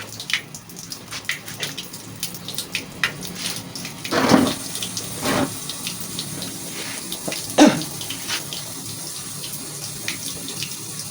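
A tap turned on to wet a sickle sharpening stone: faint trickling and splashing water with a few louder gushes, close by and without talk.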